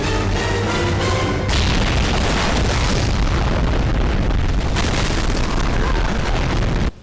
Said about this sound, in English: This is seriously the largest explosion in any Rambo film